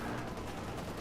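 Tank cannon and gunfire from a Panzer IV in a Company of Heroes 2 one-on-one match: a dense, continuous clatter of battle noise with shots blending together, steady and fairly loud throughout the short stretch.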